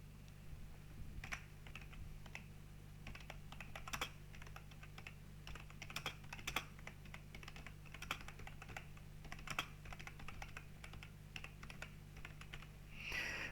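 Keys clatter on a computer keyboard while text is entered into a spreadsheet cell about deliveries to supermarket warehouses, a steady run of light, close taps over a faint low hum.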